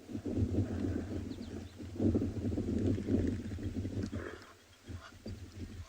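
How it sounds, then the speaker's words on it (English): A hippo on a South African safari lets out a deep, rumbling, sputtering call in the distance, low grunting bursts repeating over several seconds with faint bird sounds around. "Ooh, that was a hippo."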